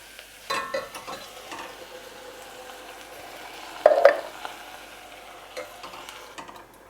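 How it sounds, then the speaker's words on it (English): Tinned tomatoes hit a hot, sizzling pan for a basic tomato sauce and are stirred in, with a soft frying hiss, scattered spoon scrapes and one brief louder clatter partway through, no talking. "We're now going to add in our tomatoes."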